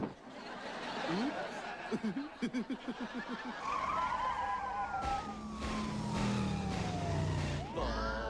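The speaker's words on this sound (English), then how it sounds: "The siren on the car" In a TV comedy sketch, a police car siren wails in a slow rising and falling sweep after a burst of short rhythmic sounds, with tyres skidding beneath it and voices chattering.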